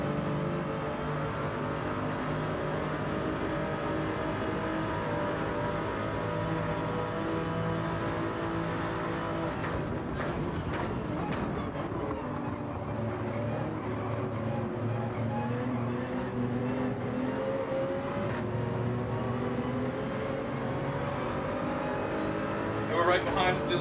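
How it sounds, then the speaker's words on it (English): A high-revving F3500-A formula race car engine in a Gran Turismo World Series online race, droning steadily throughout with shifting pitch as it accelerates and changes gear, loud and continuous under a commentator's talk. "He's revving that thing to the moon."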